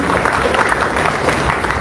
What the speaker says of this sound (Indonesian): Boleh tepuk tangan buat teman-teman sekalian.